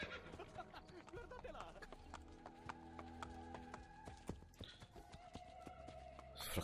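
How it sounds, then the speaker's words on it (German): A city guard's horse gallops in Assassin's Creed Brotherhood, quick hoof clops under game ambience and faint voices, moderately close. "Jetzt kommt wieder unser Stadtwachenpferd."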